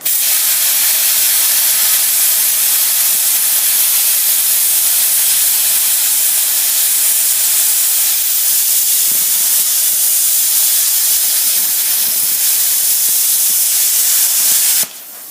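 A Hypertherm plasma cutter slices a corner off an automotive part, producing a loud, continuous harsh hiss that holds steady for about fifteen seconds before cutting off abruptly.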